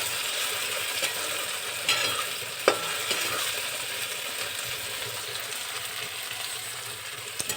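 Chopped okra frying in a home kitchen pan, a steady bright sizzle with occasional scraping stirs and a couple of sharp spatula knocks, close and continuous with no talk.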